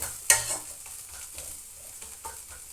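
Browned onions frying in a pan, a soft steady sizzle with a sharp utensil clink at the start and light stirring scrapes throughout, no voices.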